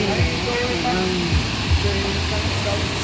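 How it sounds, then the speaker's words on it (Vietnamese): The Lenin stream at Pác Bó cave in Cao Bằng rushes loudly and steadily nearby, a constant broadband wash of flowing water with a voice talking over it. "Suối Lê Linh ở hang Bắc Bó đây, Cao Bằng."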